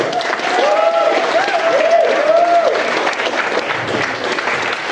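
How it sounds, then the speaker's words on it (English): A wedding reception crowd applauding steadily during the speeches, loud clapping that holds for several seconds, with some voices cheering over it. "Yes, it does deserve a round of applause."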